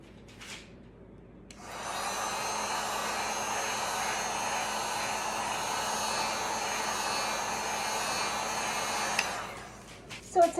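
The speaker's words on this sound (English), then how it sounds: "just use a bit of a heat gun and that'll help move it" A heat gun blows steadily over poured epoxy on a tile coaster, a close, even hiss-like roar that starts after a short pause and holds for about eight seconds before cutting off.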